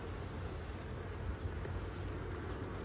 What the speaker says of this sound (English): Bees hanging out of the side here.